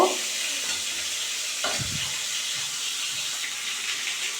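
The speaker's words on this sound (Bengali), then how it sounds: "মাছ ভাজা আমি বেশি কড়া করে ভাজিনি, হালকা করে ভেজেছি" Pieces of silver carp fry lightly in a pan with a steady, fairly loud sizzle throughout, with one brief clatter of the utensil early on.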